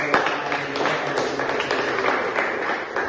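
A classroom of students claps together in a steady, dense patter that stays close and fairly loud for a few seconds.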